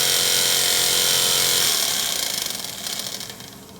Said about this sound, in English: So with 20 watts of power going into the motor, as you can see, it develops considerably more torque and more speed.